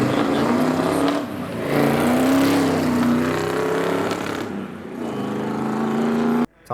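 A 1972 Ford Capri Verana race car climbs a hillclimb course, its engine loud and close, revving and rising in pitch through gears with brief lifts between, ending abruptly.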